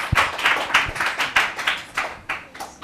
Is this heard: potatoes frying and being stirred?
no